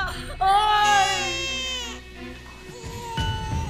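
A baby cries close by in wailing, whimpering bursts that fade toward the end, followed by a short low thump.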